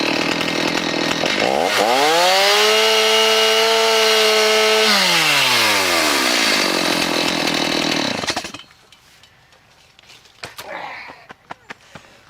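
A power saw cuts through a wooden shelf, its motor whining up to full speed and holding a loud, steady drone for several seconds before stopping, followed by faint handling noises.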